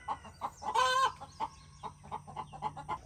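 Chickens clucking in a burst of short, repeated calls with a louder squawking flurry near the start, close by, as a rooster is penned in with the hens in a coop.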